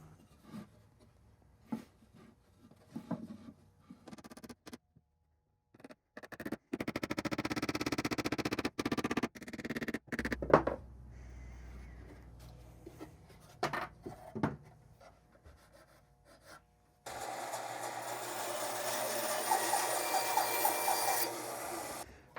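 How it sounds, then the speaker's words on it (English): A drill bores a hole into an old wooden shotgun crate during restoration, with intermittent grinding bursts, scraping and handling knocks, ending in a longer steady whir. "Now I can drill this hole, and that's where we'll insert the nail."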